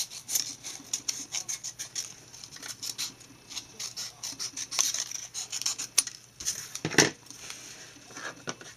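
A paper strip for mummy candy bar wrappers is trimmed with scissors, giving soft, close snips and rustling crinkles in an irregular patter, fairly quiet and with no talk.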